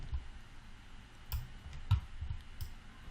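Computer mouse clicking at a desk while objects are selected and dragged in software, a few sharp faint clicks spaced irregularly over a low room hum, with no voices.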